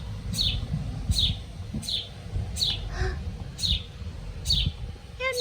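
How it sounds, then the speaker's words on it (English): A small bird calls from a roof gutter in a series of six sharp, regularly spaced chirps, close and fairly loud over a low background rumble, with a brief different call near the end. "up in that gutter, the little bird likes to shout."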